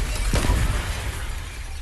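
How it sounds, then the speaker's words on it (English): A sniper rifle bullet shatters glass: one sharp, loud crashing burst near the start, then a broad wash of noise that slowly fades with a low rumble underneath. "The crack of shattering glass cuts through the calming chimes of the comfort bells"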